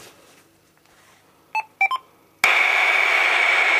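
Radio scanner tuned to harmonics of a simple four-component 27 MHz crystal oscillator transmitter: a few short tonal beeps, then a sudden loud, steady hiss of carrier noise holding to the end, with no talk.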